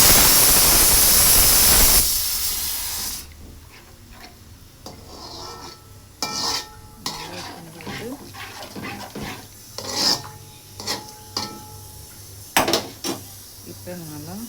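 Scraping and clattering of a spoon stirring a chickpea curry in a pot, irregular strokes after a loud rushing pour of about two tumblers of water at the start.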